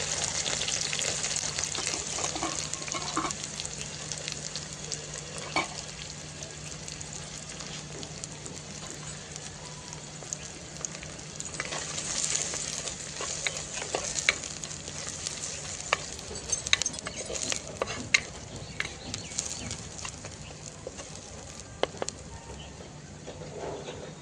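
Dried red chilies, garlic and green chilies sauté in hot oil as a tempering for a Kathiyawadi dhaba-style buttermilk rotlo, giving a steady close sizzle with occasional light stirring clicks and no talk.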